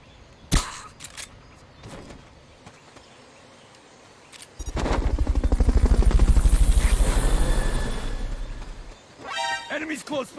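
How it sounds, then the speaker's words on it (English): A helicopter in the Metal Gear Solid: Peace Walker video game swells in with a loud, pulsing rotor thrum that holds for several seconds then fades, with sharp game effects and a voice speaking around it. "Fulton recovery subject confirmed onboard helicopter."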